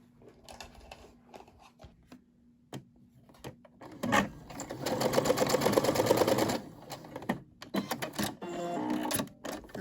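A Brother SE600 sewing machine stitches a test piece, a dense mechanical chatter running steadily for a few seconds midway, with quieter handling clicks and shuffles before and after.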